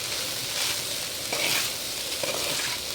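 Fried rice with sauces tossed and stirred in a pan over high heat, a steady hiss of sizzling broken by a few scraping spatula strokes, close and alone.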